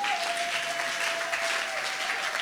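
Church congregation applauding to acclaim the Lord during a faith service, a steady wash of dense clapping that holds evenly throughout with a faint sustained tone beneath.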